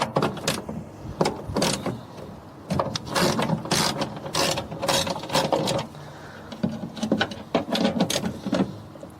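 A ratchet with a 10mm socket works on the speaker bolts inside a Nissan Juke door, giving repeated bursts of sharp, close clicking in uneven runs over several seconds with no talking.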